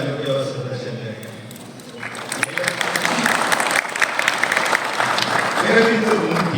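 An audience applauds at a startup conclave in a hotel ballroom. Steady clapping builds and continues throughout, moderately loud with a dense, sustained texture.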